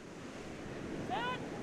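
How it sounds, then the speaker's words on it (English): Big shore-break waves roll in at Clifton Fourth Beach in Cape Town during a surf swim race: steady broadband surf roar with wind buffeting the microphone, and a brief tonal squeal or whistle near the end. "It's a big sea out there today, folks. A big shore break coming through."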